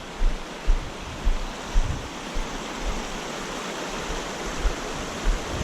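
Stream water flowing at a hiking trail crossing, a steady broadband rush with low thumps from footsteps or gusts, close and fairly loud with no talking.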